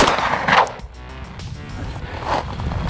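A Springfield Prodigy pistol fired at a 100-yard target: a sharp report near the start, then a quieter second shot later against outdoor background noise.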